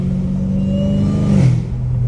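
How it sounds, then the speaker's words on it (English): A Dodge Challenger Hellcat Redeye with straight-piped exhaust rumbles loudly up close, then gives a short rising rev that peaks and drops back to a throaty idle. "I definitely need to get custom exhaust because this exhaust ain't it"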